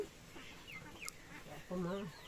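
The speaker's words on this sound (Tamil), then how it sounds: "இந்த அடை கோழி கோவக்கார கோழி" A broody hen gives low clucks and a drawn-out grumbling call near the end, with faint background noise around it.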